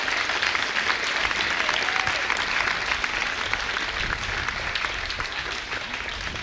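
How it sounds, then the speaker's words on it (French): A large church congregation claps loudly and continuously at a conference service, a thick, sustained wash of applause with faint crowd voices mixed in. "Oui, acclamation. Clap up."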